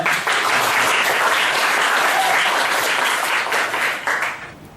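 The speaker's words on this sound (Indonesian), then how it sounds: "Bagi tepuk tangan untuk jawaban teman Anda." Students in a vocational school classroom give a steady burst of applause for a classmate's answer, dense clapping that holds strong and then thins out near the end, with a little voice underneath.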